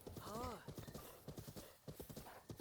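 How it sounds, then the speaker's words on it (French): Horse galloping in The Legend of Zelda: Breath of the Wild, with quick rhythmic hoofbeats and a brief whinny near the start, heard faintly under game sound. "Premier cheval qui va accélérer nos voyages."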